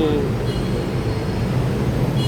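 An elevated electric train rumbles past with a steady low roar and rattle, a broad rushing noise of rail traffic filling the background.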